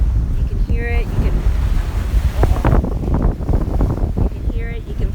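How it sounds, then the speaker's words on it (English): Ocean surf on a beach rolls in steady and close, with heavy wind buffeting the microphone and a few faint higher tones over the wash. "I hope you can hear the ocean, how tranquil and calm it is"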